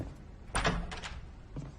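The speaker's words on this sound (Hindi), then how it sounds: "दरवाजा खोल रहे हो कि मैं अंदर आ जाऊं?" A door opens in a house with a single muffled thunk and a short rattle, near and moderately loud, followed by a faint softer knock.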